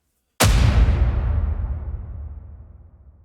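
A single booming explosion sound effect hits hard after a short silence, then rolls out into a long, deep rumbling decay that fades slowly.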